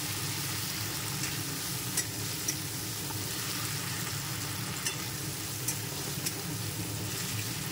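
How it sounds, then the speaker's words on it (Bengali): Shrimp frying in oil in a wok as they are stirred, a steady close sizzle broken by light periodic scrapes of the utensil, with no one speaking. "ওই কড়াইতে আমি একটুখানি নাড়িয়ে চাড়িয়ে নিচ্ছি চিংড়ি মাছটা"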